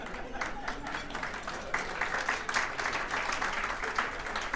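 An audience gives a sustained round of applause at a political gathering, dense steady clapping from a large crowd that holds level throughout without pause.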